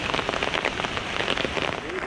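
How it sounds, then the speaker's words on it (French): Heavy rain drums steadily and loudly onto an umbrella on a muddy mountain path above 3000 metres, a dense, close, continuous patter with no break. "on est vraiment sous la flotte"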